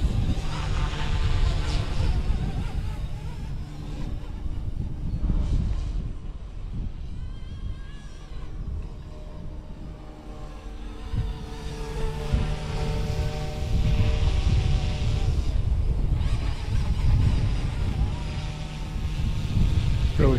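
A Flite Wing 200 RC helicopter flying on a windy day with a larger battery gives a steady whining rotor drone that rises and falls over about twenty seconds, buffeted by wind noise rumbling underneath.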